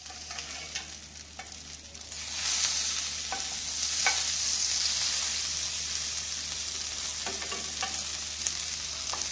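Beef burger patties cook on a buttered grill over slow heat, a steady hiss that swells as they go down, with faint crackles and occasional taps throughout.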